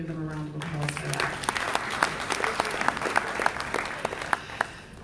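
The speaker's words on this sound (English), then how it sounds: "I think we can give them a round of applause for that." Audience applause at a diaspora conference plenary session on social business enterprise, a steady crowd of clapping with sharp individual claps, starting just as a voice fades out.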